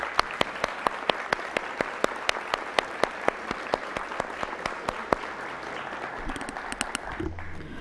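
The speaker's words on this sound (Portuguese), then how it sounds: "Peço a todos uma salva de palmas" Audience applause at a university graduation ceremony, many hands clapping with sharp individual claps standing out in a fairly even rhythm, tapering off toward the end.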